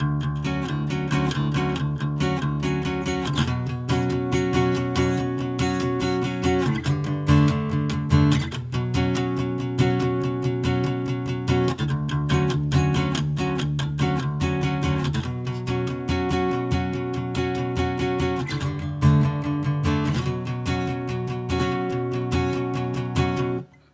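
An electric guitar strums rapid rhythmic chords, alternating downstrokes and upstrokes in a steady driving pattern, loud and continuous throughout with no talking.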